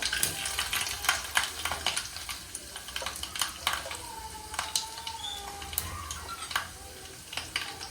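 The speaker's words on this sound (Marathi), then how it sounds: "तेल गरम झालं आहे आपलं आता आपण याच्यात तराई घालूया मोहरी थोडंसं ठेचलेलं खोबरं" Mustard seeds and crushed coconut sizzling in hot oil, with sharp irregular pops and crackles over a soft hiss and occasional stirring clinks, fairly close.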